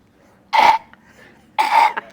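A person imitates a Labradoodle's kennel cough with two harsh, hacking coughs close up, roughly a second apart and separated by quiet.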